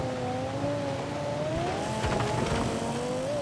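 A car engine in Forza Horizon 4 holding a steady, droning whine whose pitch drifts up and down, with faint tire and road noise underneath and a brief rougher patch near the end.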